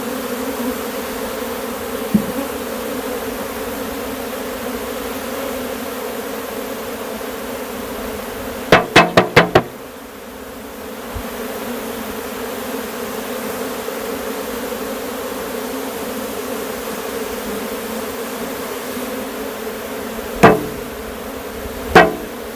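A swarm of honeybees buzzes steadily during a head-high swarm catch, a continuous droning hum close by, broken briefly by a short burst of sharp knocks midway and a couple of isolated taps later.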